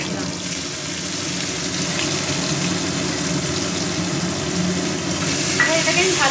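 Thinly sliced onions sizzle steadily in hot oil in a pan for tilapia do pyaza, a dense, continuous frying hiss with faint stirring near its end.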